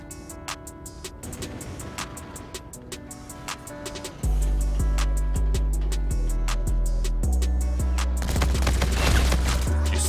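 Rapid automatic gunfire from a weapon in Call of Duty: Infinite Warfare, sustained bursts of sharp shots over game music and noise, growing louder and denser midway.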